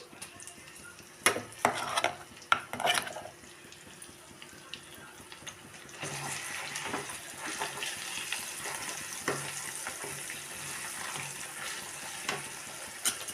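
Ground Andhra-style gongura chutney goes into a pan: a few sharp clinks and scrapes come first, then a continuous moderate sizzle with stirring sounds settles in and carries on to the end.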